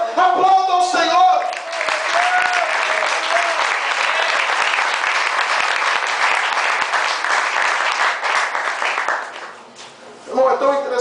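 A church congregation at a night service at the 2014 IPR camp applauds in sustained, dense clapping for about nine seconds, loud and close, with cheering and talk at the start and a voice returning as the clapping fades.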